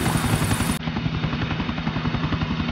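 A helicopter in the video game Grand Theft Auto 4 makes a loud, steady rotor thump with rhythmic chopping pulses, heard alone with no talk.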